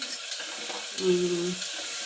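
Onion and tomato with chana dal fry in a pan for a bottle gourd palya, a soft continuous sizzle with light stirring scrapes, close and quiet, with a brief low hum partway through and no talking.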